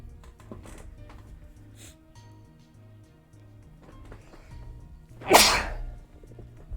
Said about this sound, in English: I was waiting for that sneeze